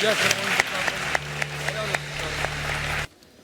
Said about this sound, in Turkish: Bir de alkışlayalım Gökhan'ı